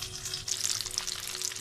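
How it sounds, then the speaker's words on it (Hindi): Coated aloo tikki frying in hot oil gives a steady close bubbling sizzle with dense crackling pops, continuous through the short moment and with nobody talking. "अब इसे मैं दोबारा ऑयल के अंदर डालूँगी और इसे फ्राई करूँगी।"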